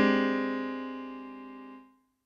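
A single sustained piano chord, a 5 chord with a flattened thumb note, struck once, ringing clearly and slowly decaying before cutting off, with a slightly dissonant tone in the mix.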